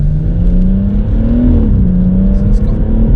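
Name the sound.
BMW M140i with Remus exhaust revving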